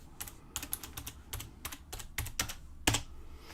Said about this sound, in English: I'll just type it in now.